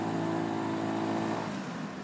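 An Italjet Dragster 200 sports scooter drives on an open highway, its engine giving a steady, loud drone with a strong low hum that eases off slightly toward the end, close and alone without voices.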